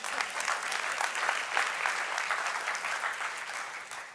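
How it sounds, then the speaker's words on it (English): A church congregation claps in a brief burst of dense applause, moderately loud and fading slightly at the end. "All right, mercy clap."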